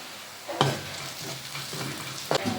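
Two sprigs of curry leaves drop into hot oil with softened onion and fennel seeds, giving a steady low sizzle broken by a few sharp spatula scrapes and clicks against the pan.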